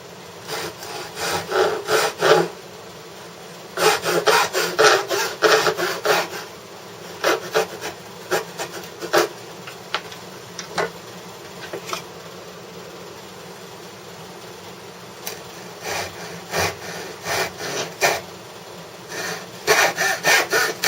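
A hand saw cuts the two shoulders of a dovetail in wood, close rasping strokes in several bursts of quick back-and-forth sawing separated by short pauses, with lighter single strokes in between.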